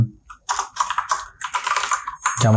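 A computer keyboard clicks out several quick bursts of typing, close and crisp, with short pauses between the runs of keystrokes and no talking.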